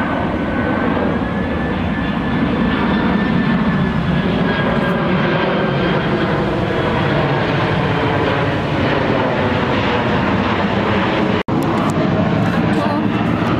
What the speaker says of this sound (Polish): Leci kolejny samolot.